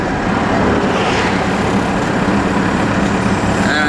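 A Cummins-powered Ford F-150 pickup engine drones loudly and steadily from inside the cab while towing a 6x12 trailer, a constant low rumble with no break throughout.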